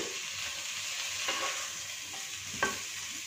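Chopped vegetables stir-frying in a pan for a samosa filling, a soft, steady sizzle with a few light stirring clicks and scrapes.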